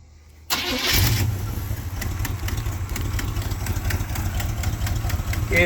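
A 1986 GMC Sierra C10 truck engine cranks briefly, then catches and settles into a loud, steady idle up close, with people talking faintly over the running motor.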